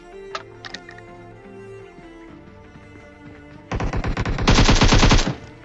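Automatic rifle fire in PUBG Mobile, likely an AKM, comes as loud rapid bursts in the second half, preceded by a few sharp single shots and lighter clicks.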